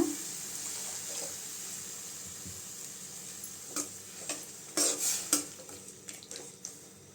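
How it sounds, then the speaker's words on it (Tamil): Water poured into a pan of beetroot and chana dal stir-fry sets off a sizzle that softens to a steady simmering hiss, with a few scraping stirs and clinks of a spoon near the end. "இந்த பீட்ரூட் வேக அளவு கொஞ்சம் தண்ணி சேர்த்துக்கலாங்க"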